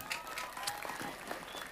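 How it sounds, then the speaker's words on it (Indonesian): Faint, steady applause from an audience at a mosque gathering at Masjid Baitul Izzah, Cangkring Plosoa, sounding distant with dense overlapping claps throughout. "tepuk tangan buat Gus Samsudin"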